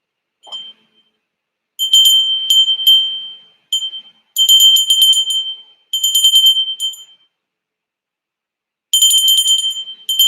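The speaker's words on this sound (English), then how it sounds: "Oh no, here's the bell." A bell rings in bright, shrill bursts, several separate trains of rapid metallic rings with pauses between them, loud and close with no talk.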